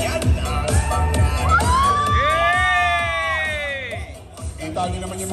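A crowd at a Zumba dance session in the Philippines shouts, whoops and cheers with rising and falling yells, loud and close, over background music.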